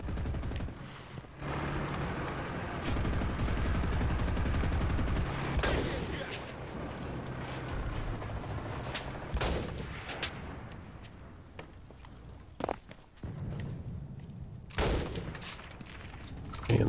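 A mounted weapon in the game Enlisted fires in rapid bursts and long rattling volleys, mid-distance and moderately loud, with sharp separate shots and gaps between strings of fire.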